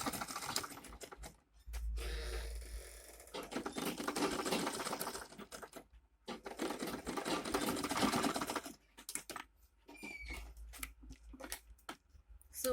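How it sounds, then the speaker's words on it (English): Seams of a small handmade bag getting stitched on a sewing machine in several bursts of fast, steady whirring with short gaps between runs, close and fairly loud. "make sure your sewing here is straight so that you won't have a bent bag at the end of the day"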